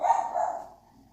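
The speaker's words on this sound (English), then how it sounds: "You gonna interrupt this broadcast to go bark at people?" A dog barks indoors, two short close barks in quick succession that fade out, with no other sound around them.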